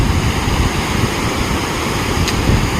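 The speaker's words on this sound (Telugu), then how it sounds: "అక్కడ ఒక వాటర్ ఫాల్ అండ్ ఇది పెద్ద వాటర్ ఫాల్ ఇక్కడ మనకి" A large waterfall in Macherla gives off a steady, loud broadband roar of falling water that holds even throughout, with no voices over it.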